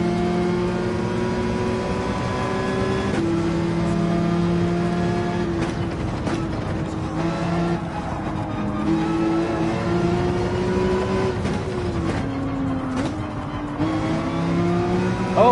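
Race car engines in Gran Turismo 7 on the Red Bull Ring produce a loud, sustained drone that rises in pitch and drops at gear shifts, with other cars' engines layered in throughout.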